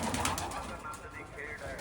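Soft pigeon cooing and fluttering close by as the birds feed on grain, low and murmuring under a steady background hum.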